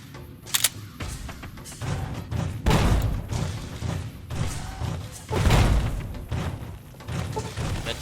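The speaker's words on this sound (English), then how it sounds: "I'm gonna throw some grenades." Grenades blowing up in Fallout: New Vegas: several heavy, booming thuds land a couple of seconds apart, each with a rumbling tail, over a steady low game background.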